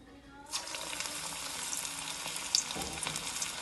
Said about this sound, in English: And now I'm going to start putting in the batter in this.